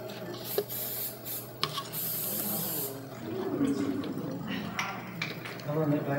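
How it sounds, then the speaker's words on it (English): Spray fixative hisses onto a pencil drawing in short bursts, a brief spray near the start and a longer steady one, close by, with a voice talking softly underneath. "This is spray fix."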